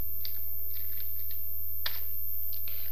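Close computer keyboard typing as code is entered, with scattered individual key clicks and one sharper tap, over a steady low electrical hum.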